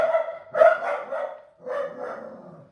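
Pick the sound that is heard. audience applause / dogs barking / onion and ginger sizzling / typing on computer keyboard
dogs barking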